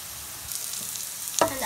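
Browned onions sizzle steadily in a pan for a vegan, gluten-free vegetable stir fry as habanero pepper and garlic go in, with a sharper burst of frying near the end; no talking.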